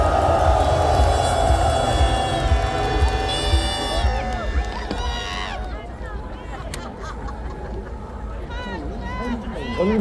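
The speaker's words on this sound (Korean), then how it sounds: "여러분 큰 박수와 함성으로 모시겠습니다" Crowd at a nationwide street rally in Korea cheering and applauding, a broad roar of voices and clapping with amplified music under it, easing somewhat partway through while the crowd noise continues.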